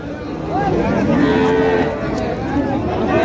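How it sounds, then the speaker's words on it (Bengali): Cattle low loudly and repeatedly at a busy rural cattle market, the drawn-out moos sounding close over a steady crowd murmur. "খুবই সুন্দর সুন্দর গরু।"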